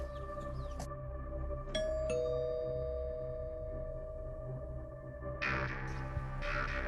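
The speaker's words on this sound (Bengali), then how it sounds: "কলিং বেল বাজাও" A doorbell chimes inside a house at a police visit, with a few bright electronic tones ringing out and fading over a steady low hum, followed by a brief hiss of noise near the end.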